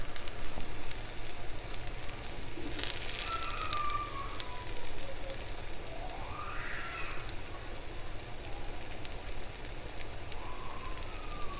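Plantain slices fry in hot oil with a dense, continuous sizzle, close and fairly loud, scattered with crisp pops and a few brief scraping or clinking sounds.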